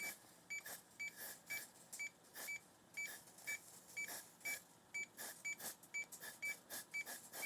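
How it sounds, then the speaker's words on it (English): A testing device beeps repeatedly while a Fujitsu M2551A 360k floppy drive is being troubleshot, with short tones recurring in an uneven rhythm alongside brief rustles, all fairly faint and close. "I'm gonna turn on the beeping, so sorry about the annoyance"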